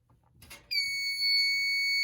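A fire alarm system under test sounds off: after a few faint clicks, a loud steady electronic alarm tone starts abruptly and holds continuously to the end.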